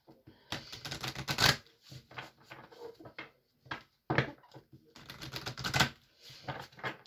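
Tarot cards shuffled and pulled by hand in bursts of close, crisp riffling and flicking, with short quiet gaps between bursts.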